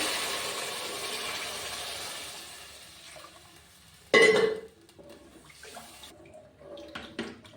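Hot water pours steadily into rice in a pot for chickpea pulao, a continuous rushing splash that tapers off, then a brief clatter as the vessel is set down, followed by faint handling sounds.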